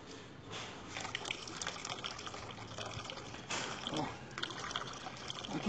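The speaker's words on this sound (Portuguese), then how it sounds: "Encher essa bacia aqui." Water pours and splashes from an LPG gas cylinder into a basin, a steady gushing, trickling flow close by with brief surges, while a person talks over it.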